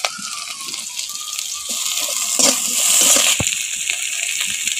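Chopped raw onion hits hot oil in a frying pan for a Bengali vorta with garlic cloves, giving a steady close sizzle that swells and crackles louder partway through, with no talk over it.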